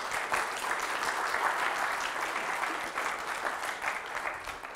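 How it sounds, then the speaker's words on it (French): A conference keynote audience applauds after a technical presentation, a steady dense wash of clapping lasting several seconds at moderate distance, with no voices over it. "j'ai cru qu'ils n'allaient pas t'applaudir"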